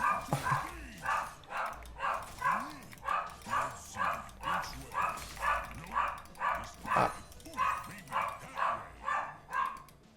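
A female pet dog barks repeatedly at something outside, a steady run of roughly twenty evenly spaced barks close to the microphone, loud and insistent throughout.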